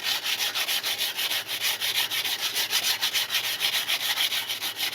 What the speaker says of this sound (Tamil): இப்போ வந்து பிரேக் டிஸ்க்கை வந்து க்ளீன் பண்ணணும்.